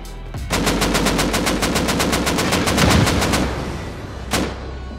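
Gunfire in an online bunker-raid video game: a rapid, loud automatic burst of about twenty evenly spaced shots over three seconds, then a short pause and one final shot, with no talking.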